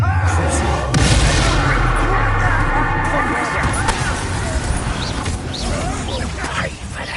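An Incendio fire spell cast in Hogwarts Legacy rushes out as a loud, dense burst of roaring, crackling flame and impact booms, with voices calling out over the blaze.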